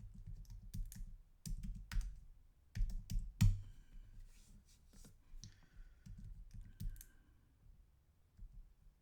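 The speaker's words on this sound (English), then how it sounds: "Let me type that in" Someone types on a computer keyboard in irregular bursts of quick, close clicks and clacks with short pauses between runs. The keystrokes are fairly quiet, with no voices.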